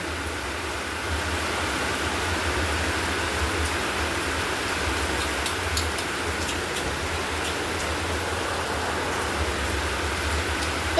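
Steady rain falls throughout, a dense even hiss of drops with no breaks, near and moderately loud, with no voices.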